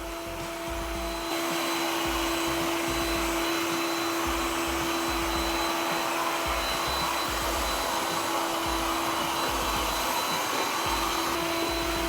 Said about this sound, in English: So this is maximum vacuuming function. Wow, that thing is loud.